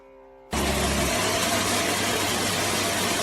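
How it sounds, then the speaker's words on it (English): A robot mop's base station pumps out dirty water and empties its container: after a quiet moment, a sudden loud, steady mechanical whoosh with low rumbling starts and continues without pause. "Both the pumping out of the dirty water and the emptying of the container produce some sounds."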